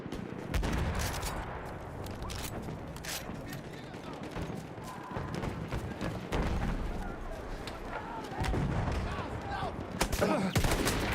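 Bursts of MG17 machine gun fire in a World War II combat video game, dense, continuous rattling volleys that swell louder near the end, mixed with battle noise and talk.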